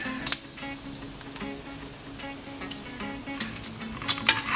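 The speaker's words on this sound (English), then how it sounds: "It's starting to burn. Or not burn, but you can hear it sizzling." Meat frying in a pan during home cooking of whole wheat tortillas and filling: a steady, close sizzle with a few sharp pops and spatters, no talking.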